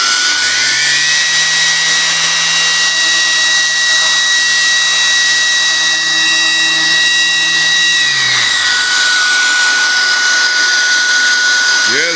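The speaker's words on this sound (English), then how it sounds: "I should try it with the vacuum and the tool both running and see how that sounds" A vacuum hose whistles with a shrill steady tone while the vacuum and a sanding tool run together, a loud continuous whine that spins up, holds, then winds down near the end.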